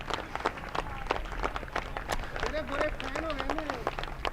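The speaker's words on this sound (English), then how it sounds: "He acknowledges the applause as well he might." Scattered applause from a small crowd at a T10 cricket match as a batsman reaches his century, sparse distinct claps running under a commentator's steady talk.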